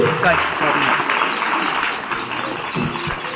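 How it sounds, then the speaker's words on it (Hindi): Loud applause fills a government school's Republic Day program as the audience claps for a first-place student, a dense steady clatter lasting a few seconds with some voices mixed in. "जोरदार तालियां दुनिया के लिए"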